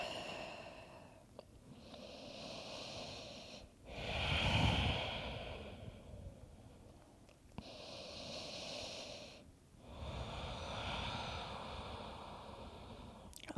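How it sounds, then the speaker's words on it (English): Slow, deep yoga breaths with no talking: long whooshing inhales and exhales alternate in a steady rhythm, each lasting a few seconds and heard close and clear. "Listen to your breath."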